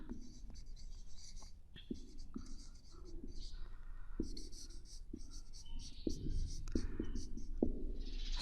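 Pen or marker writing out a matrices answer for a 9th-class math exercise, steady scratchy strokes with short taps throughout, close and continuous under faint background noise.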